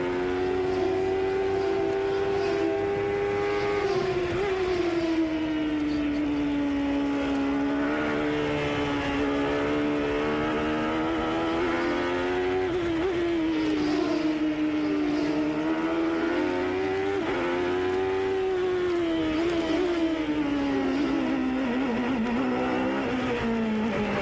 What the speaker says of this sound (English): We've got the onboard telemetry from Chevrolet's engine here on Little Al's car.